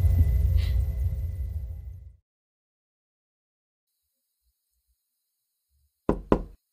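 Two quick knocks rap on an office door in a radio drama, crisp and close, arriving after a low rumbling stretch fades into silence.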